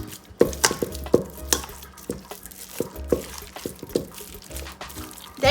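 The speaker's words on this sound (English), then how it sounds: "I'm going to mash them up." Cooked, peeled sweet potatoes mashed by hand in a bowl, giving soft, wet squishing and tapping strokes in an uneven rhythm, close and moderately loud with no talk.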